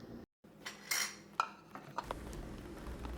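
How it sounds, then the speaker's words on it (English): Spaghetti is stirred into sauce in a pan, with close metallic clinks and scrapes of a utensil against cookware, a few sharper knocks, and a low hiss underneath. "Now, I'll mix it up to get all the spaghetti covered in sauce"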